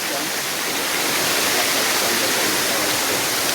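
Water gushes from the end of a pipe at the Champagne River falls in Saint Ann, Jamaica: a loud, close, continuous rushing roar that stays steady throughout.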